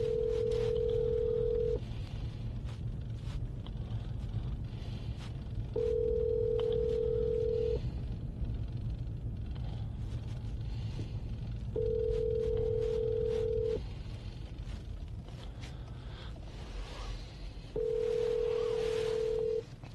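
Phone call ringing back through a Lamto CarPlay touchscreen in a car: four evenly spaced ring tones, each about two seconds long with long gaps between them, steady and clear over a low road hum.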